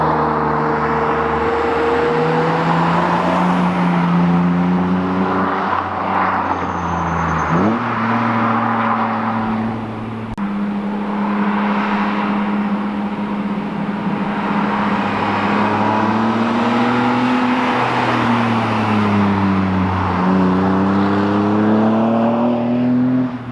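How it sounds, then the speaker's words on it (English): BMW E36 M3 with a modified exhaust driving past in repeated flybys: loud, close engine drone rising and falling in pitch as the car revs, shifts and passes, sustained over about twenty seconds with no talking. "let me give you guys some flybys of this exhaust so you can hear what it sounds like"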